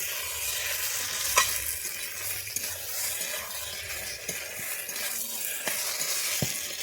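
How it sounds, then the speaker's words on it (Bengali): Fried pointed gourd is stirred into a spice paste in a pan, a close, steady sizzle broken by soft spoon scrapes and occasional light clinks, without any talking. "দিয়ে আমি এবারে এইটাকে ভালোভাবে নেড়ে নিচ্ছি"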